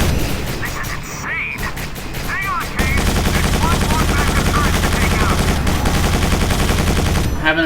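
Rapid gunfire from shooting enemies in the Quake 4 video game, dense continuous bursts of loud shots mixed with explosions and game effects, with voices speaking over the action.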